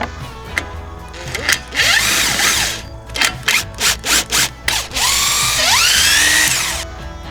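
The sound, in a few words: power drill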